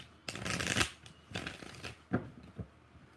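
A deck of tarot cards being shuffled close up in several quick riffling bursts with brief pauses between them, no talking.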